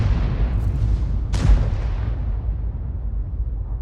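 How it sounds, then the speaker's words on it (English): Heavy tank cannon impacts in a tank battle video game, a sharp booming hit near the middle over a continuous low rumble of engines and distant explosions. "There's some big hits going in on those tanks."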